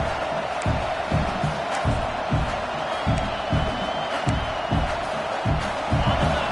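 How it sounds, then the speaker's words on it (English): A large stadium crowd roars with sustained cheering and rhythmic chanting pulses, a dense, distant wall of voices filling the space. "listen to this crowd noise. This stadium is vibrating."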